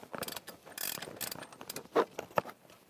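A ratcheting tool is turned counterclockwise to remove it during a crankshaft vibration damper job on a 1999-2006 Chevrolet Silverado, giving a short series of close mechanical clicks and ratchet rasps.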